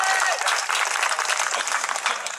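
Applause at a Dutch dialect band's festival performance, dense steady clapping that fills the whole stretch, loud and close, with crowd noise mixed in.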